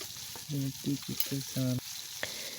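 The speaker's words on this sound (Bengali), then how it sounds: "মাছটা আমি ভেজে নিচ্ছি" Hilsa fish fries in a pan for mustard hilsa, a steady close sizzle broken by several short tonal hums over the first half.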